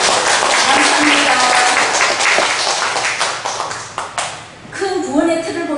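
Applause from a church congregation for the elderly deaconesses at a women's mission dedication service, dense steady clapping that thins and tapers out near the end as a voice begins under it.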